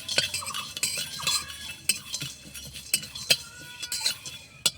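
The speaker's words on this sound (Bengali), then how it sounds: "কটা মৌরি দারচিনি সুন্দর করে লেড়ে ভেজে নিব" A utensil scrapes and taps against a pan as fennel seeds and cinnamon are dry-roasted, with irregular clinks and soft sizzling scratches close by.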